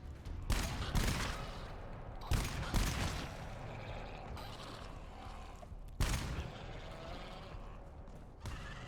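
Gunfire in the co-op shooter GTFO, a few heavy bursts that ring out and decay into a dense, rumbling background, fairly distant-sounding with no clear voices.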